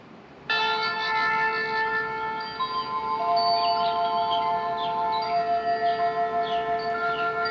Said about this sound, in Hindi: और आप इसमें शंख ध्वनि भी सुन सकते हैं।